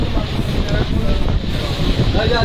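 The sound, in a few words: sea waves at high tide on Digha beach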